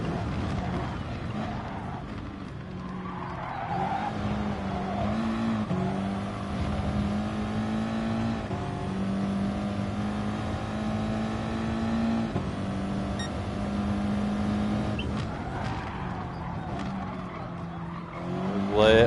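Race car engine in a racing video game, revving steadily with tonal harmonics and shifting pitch as it brakes hard into tight corners, with brief tire squeal, loud and continuous throughout.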